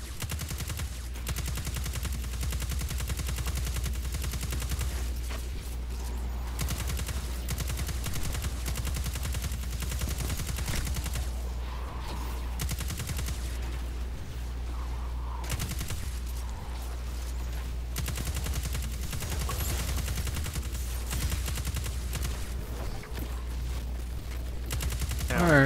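Sustained gunfire in the Destiny 2 video game during a snowstorm, with rapid bursts of shots over a constant low rumble of wind and ambience, dense and fairly loud throughout, no voices clearly heard.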